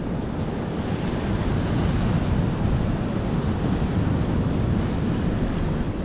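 Big ocean waves surge and spray against rocky coastal cliffs on a windy beach at Stanage Bay, Australia, a continuous loud roar of surf with steady wind rumble throughout.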